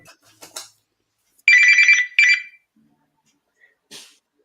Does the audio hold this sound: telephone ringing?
yes